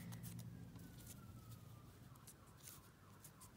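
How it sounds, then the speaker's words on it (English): A siren passes outside, a faint wavering wail that sweeps down in pitch over an indoor room tone, sounding distant and muffled behind walls. "There goes some siren outside."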